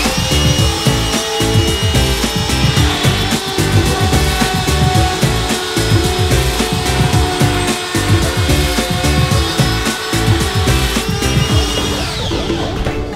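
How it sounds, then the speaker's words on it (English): Makita DCO180 cordless cut-out tool routing through a board for a light switch opening, a loud, steady high-pitched whine with continuous rasping cutting noise throughout, winding down at the end. "I'm going to cut off the off cut, and then I'll cut out this light switch with the little trimming tool."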